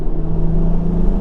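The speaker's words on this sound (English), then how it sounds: "Like if you punched it right now, it would spool pretty quickly." A 600 hp 2JZ-powered JDM Toyota Supra accelerates under partial throttle, its engine a steady, loud low drone with a strong constant hum and no voices over it.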